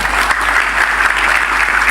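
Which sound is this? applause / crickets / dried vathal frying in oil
applause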